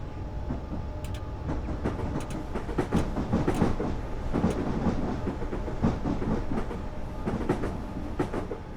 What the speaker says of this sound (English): Okay, we're passing a train.